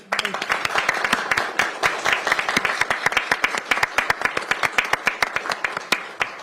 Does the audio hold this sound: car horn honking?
no